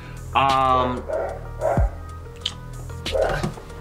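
A dog barks and yips several times nearby, short sharp sounds mixed with whiny vocal notes, with a person talking in between.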